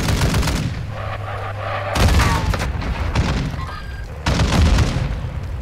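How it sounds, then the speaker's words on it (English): Explosions and gunfire in the video game Warzone 2.0, with several loud booming bursts and crackling shots spread over a few seconds amid dense, continuous battle noise. "People are exploding on that hill there."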